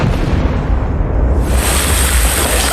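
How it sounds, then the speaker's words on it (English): Liquid nitrogen bottle explosion outdoors, heard as a loud, sustained broadband roar and rush of debris lasting the whole moment, dense and close with no talk over it. "That exploded so high."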